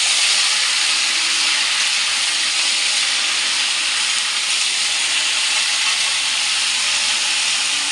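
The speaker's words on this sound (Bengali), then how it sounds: "এই দেখো সবজিগুলো আমি কড়াইতে দিয়ে দিলাম।" Mixed vegetables fry in a kadai over panch phoron spices, giving off a loud, steady sizzling hiss with no breaks that fills the whole stretch, with no talking.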